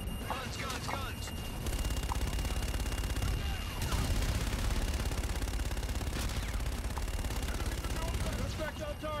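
Aircraft gun run in a Call of Duty game: a dense, continuous roar of rapid distant gunfire and impacts over a steady engine drone, with radio-style voices talking.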